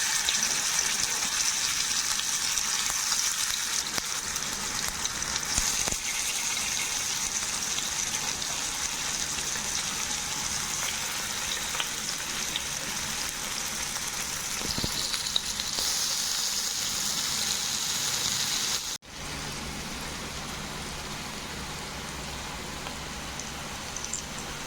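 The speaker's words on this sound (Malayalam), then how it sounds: "അയില ഫ്രൈ റെഡി ആയിക്കൊണ്ടിരിക്കണേ കേട്ടാ." Indian mackerel fry in hot oil in a pan with a loud, dense, continuous crackling sizzle close by, dropping slightly quieter near the end.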